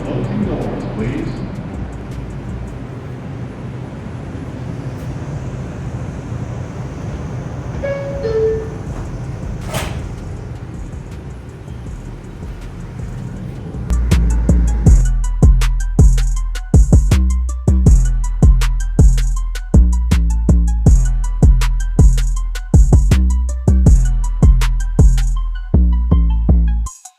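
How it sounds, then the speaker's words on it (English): An R142 subway train on the 5 line along the Dyre Avenue Line in New York runs with a steady rumble, then loud rhythmic wheel clatter over rail joints picks up and continues to the end. "This is an Eastchester-bound 5 local train."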